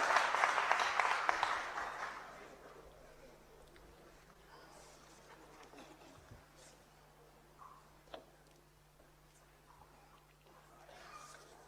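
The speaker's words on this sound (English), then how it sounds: "Can we give him a round of applause as he is approaching the podium?" An audience at a religious parliament applauds loudly for a couple of seconds as a speaker approaches the podium, then the clapping fades into a quiet room with a few faint taps.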